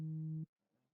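A phone rings with a single steady electronic tone that holds for just under half a second and cuts off sharply, followed by faint low murmuring.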